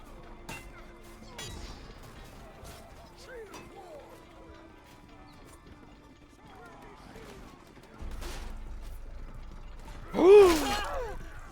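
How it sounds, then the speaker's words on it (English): Portcullis crank being turned in a medieval video game, a series of ratcheting clicks and creaks over several seconds, fairly faint, with clanks and a rising rumble near the end. "Climb the wall and turn the portcullis crank!"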